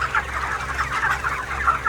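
Chickens on a poultry farm cluck continuously in a close, busy chorus of short, overlapping calls over a low background hum.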